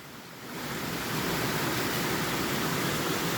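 Rushing water from a forest waterfall in the Phu Phan mountains, a dense, loud, continuous roar that swells in the first half second and then holds steady, with no voices over it.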